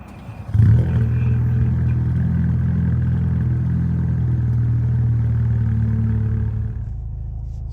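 A 2022+ Ford Maverick 2.0L with an MRT straight-through axleback exhaust fires up with a short starter burst. It settles into a deep, steady, loud idle rumble close by, then drops slightly in level near the end.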